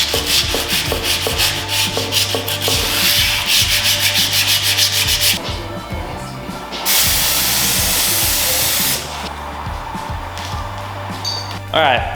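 Car wheels are sanded smooth after sandblasting, giving a loud, steady rasping scrub with a rhythmic rubbing pulse, broken by stretches of hissy noise, close to the microphone.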